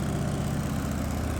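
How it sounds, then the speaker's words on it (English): A motorcycle engine idling with a steady, rough, buzzing drone much like a lawnmower, loud and close, with an even pulsing rumble and no talking over it. "My bike sounds like a lawnmower."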